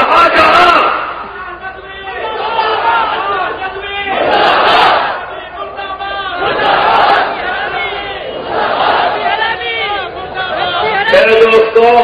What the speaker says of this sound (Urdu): میرے دوستوں، نعرے بہت لگا دیے تم نے